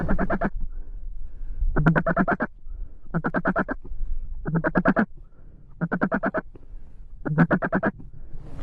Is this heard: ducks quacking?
yes